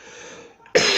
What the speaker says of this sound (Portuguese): Perdoe a tosse